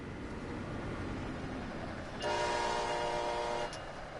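A train passing by on the Northeast Corridor in Train Sim World, a steady rolling rumble with a loud horn blast sounding for over a second midway through.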